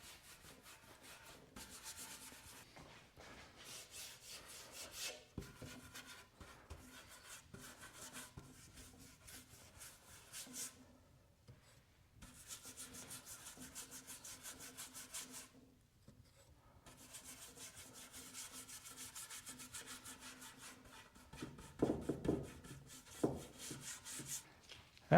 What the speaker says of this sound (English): you just work at a section at a time and brush this stuff on